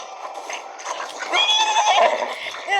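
A horse whinnies in a rising, wavering call over a busy soundscape in Zelda: Breath of the Wild, with a second short neigh near the end.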